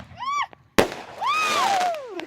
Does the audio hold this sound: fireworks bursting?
yes